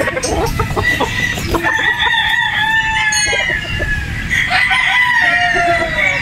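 Boston Roundhead gamefowl broodstags crow repeatedly, several long rising calls overlapping from nearby birds, with clucking and farmyard noise throughout.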